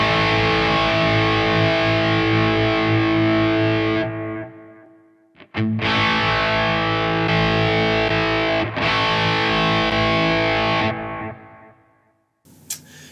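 Heavily distorted electric guitar through a Sonicake Matribox using a Mesa Boogie amp model with a tube screamer in front, playing loud sustained chords that cut off twice and ring out again, ending in a short burst.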